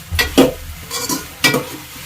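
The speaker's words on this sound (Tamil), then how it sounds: "ஒரு 5 நிமிஷம் காய் வதக்கி விடணும்" Chopped brinjal and ridge gourd are sautéed in a pan. Three or four loud, close spatula scrapes and stirring strokes sound over a frying sizzle, with no speech.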